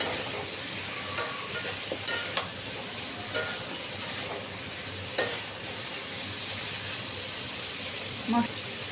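Spice paste sizzling in oil for a fish curry with taro, a constant hissing fry punctuated by scattered scraping and stirring knocks, moderately close and without talk.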